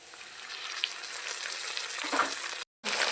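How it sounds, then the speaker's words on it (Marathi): Tomatoes go into onions already fried in a large kadhai for jowar flour upma, making a steady sizzle with a few light clinks of stirring, briefly cut off near the end before resuming. "आता आपण टोमॅटो टाकून घेऊ."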